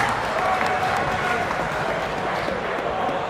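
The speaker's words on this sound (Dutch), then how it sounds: "Applaus." Dense applause from an audience at a prize ceremony on a sports field, steady broadband clapping with crowd noise underneath, sustained throughout.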